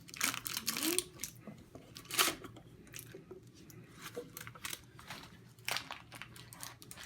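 A spatula slides between a ginger snap crust and parchment paper, and the paper peels away in quiet crinkling, rustling bursts, with a sharper crackle near the start and another around the middle.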